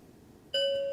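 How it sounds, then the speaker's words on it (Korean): A bright electronic correct-answer chime rings out on a Korean variety show, a clean sustained tone with a second note starting right at the end, loud and alone after near silence. "이것도 딩동댕 한번 해주시면 안 되나요?"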